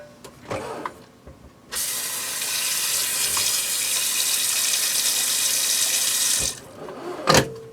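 Tap water runs steadily into a pot of freeze-dried Italian rice mix with mushrooms, a continuous close splashing hiss lasting several seconds before stopping, with a few clinks of handling before and after.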